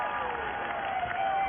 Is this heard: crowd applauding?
yes